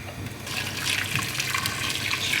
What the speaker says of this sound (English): And then I'm just going to add some boiling water over the top.